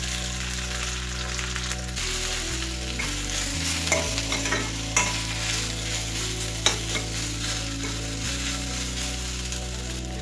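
Boiled moringa leaves and onions stir-fried in a pan, a steady close sizzle broken by scraping stirs and clatter from a spoon, with no voices.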